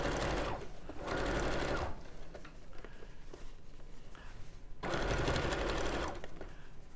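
A sewing machine stitching in two sustained whirring runs, close and steady, separated by a quieter pause with faint handling noise, with no talking.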